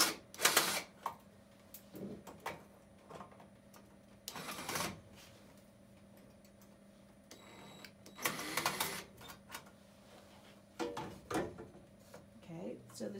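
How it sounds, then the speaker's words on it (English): Screws come out of the ceramic thermocouple holder on a Skutt kiln with short metallic clicks and scrapes at close range, brief handling knocks spread over several seconds against a quiet room. "So I'm going to take out the two end screws."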